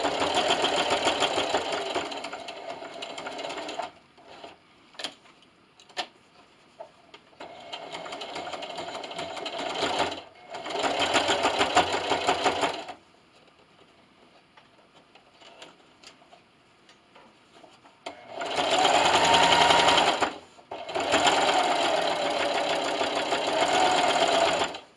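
A sewing machine sews and backstitches the seams of a quilted glasses sleeve, whirring in several start-stop runs of varying length with brief pauses between them.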